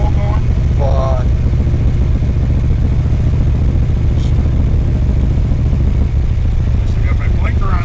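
A 1966 Chevrolet Biscayne with a big-block engine and five-speed gearbox cruises in third gear, giving a loud, continuous rumble from start to finish, with a voice heard briefly over it.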